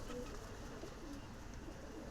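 Pigeons coo softly near their tower on a rooftop loft, a faint, low and steady murmur in the background with no talking.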